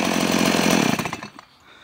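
Stihl MS 180 chainsaw cutting acacia wood, loud and close, with the engine screaming steadily under load before dropping off quickly to a low idle.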